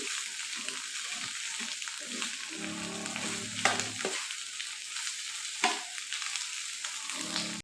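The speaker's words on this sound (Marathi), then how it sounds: "हे व्यवस्थित आपल्याला मिश्रण हलवून घ्यायचं आहे सर्व साईडनी" Egg bhurji mixture sizzles in a frying pan while a spatula stirs it on all sides, giving continuous close frying hiss with repeated scraping strokes and occasional sharp clinks.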